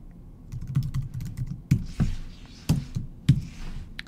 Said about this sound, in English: Let's type something in the box.